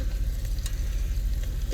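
Boneless BBQ pork ribs infused with chilies sizzling in an Instant Pot, a steady, close, bubbling sizzle with a low rumble underneath and faint occasional pops.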